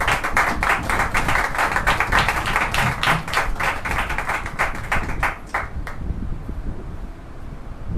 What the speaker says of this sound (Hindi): हम सभी आइए जोरदार ताली परमेश्वर के दास के लिए।